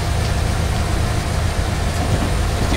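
A train in the Train Sim 2018 Sherman Hill route rumbles along in a steady, loud, unbroken low drone with a faint rolling texture and no talk.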